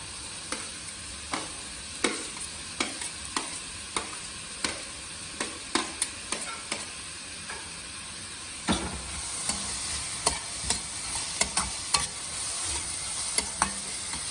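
Capsicum sizzles steadily in a hot frying pan while a spatula stirs and scrapes in a regular rhythm of sharp clacks over the continuous hiss, fairly close and with no voices.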